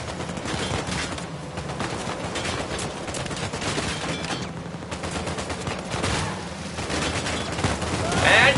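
Dense, sustained gunfire from Uncharted 4, with rapid overlapping shots and bursts filling the whole stretch and growing slightly louder toward the end.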